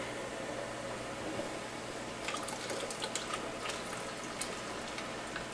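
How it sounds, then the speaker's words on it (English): Water trickles and drips steadily as just-washed canning jars are lifted so it drains down through them, with a faint, close patter and a few sharper drops partway through. "You want to lift them this way so that the water falls down through."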